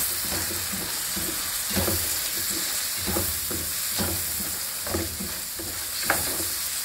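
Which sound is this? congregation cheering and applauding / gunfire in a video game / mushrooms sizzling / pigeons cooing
mushrooms sizzling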